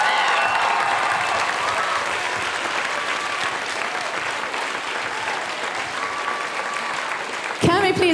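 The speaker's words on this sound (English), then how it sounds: "very big applause for our entire crew of Moontree?" Sustained audience applause fills a spring arts festival performance of "Moon Tree", a dense steady roar of clapping from a large crowd that holds at even strength before ending with a brief louder burst.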